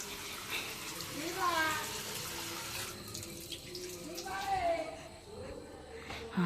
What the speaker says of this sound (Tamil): அதனால தான் தண்ணி பிடிச்சிட்டு இருக்கேன்